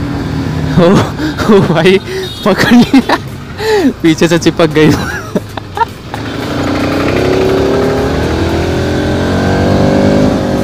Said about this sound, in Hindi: गाड़ी को तेज चलाते हैं।